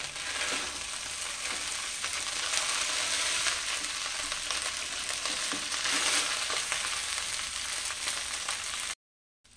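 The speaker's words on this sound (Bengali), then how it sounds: "এবার গ্যাসের আঁচটাকে একটু বাড়িয়ে দিয়ে একটু নাড়বো।" Pulao rice stirred in a pan over a gas flame turned up high, giving a loud, steady sizzle with scraping stirring throughout, then cutting to silence just before the end.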